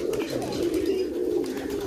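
Many Giribaz pigeons coo together in a loft, an unbroken, overlapping murmur of low throaty calls heard up close.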